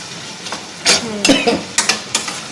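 Yogurt being stirred into chicken masala in a pan over a low flame: a spoon scrapes and knocks against the pan in several distinct strokes, with light sizzling between them.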